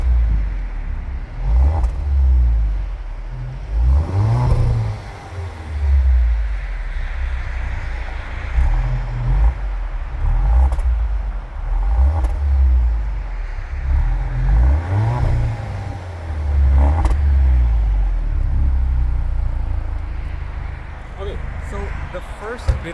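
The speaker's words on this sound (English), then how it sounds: "Let me just show you the exhaust note actually" An Alfa Romeo Giulia Ti Q4 sports sedan's exhaust rumbles and revs repeatedly, deep throaty blips rising and falling over steady idle, loud and close.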